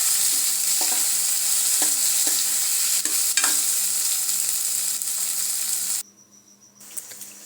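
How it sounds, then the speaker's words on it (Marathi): Tomatoes sizzle and fry in oil in a pan while being stirred, a steady loud crackle with occasional spoon scrapes, cutting off abruptly near the end. "टोमॅटोचं थोडंसं पाणी सुटेपर्यंत आपल्याला थोडं तेलामध्ये परतून घ्यायचं आहे."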